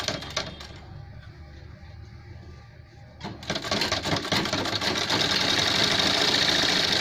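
A sewing machine runs steadily as it stitches a gent's shirt, the whirring mechanical rattle growing louder and denser after a quieter start with a few handling knocks.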